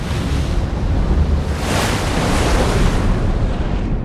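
A boat engine's low rumble runs under the wash of sea waves in the TV series Ripley, steady, loud and close, with a rushing, windy surf texture that swells briefly midway.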